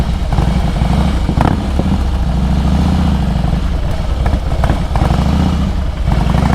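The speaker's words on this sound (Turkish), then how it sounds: "bunlar full ara gaz vermek çok zevkli ya" A Harley-Davidson Heritage with a 1700cc engine runs loud and close, a deep steady lumpy rumble with occasional revs rising and falling over the idle, mechanical clatter throughout and no talk.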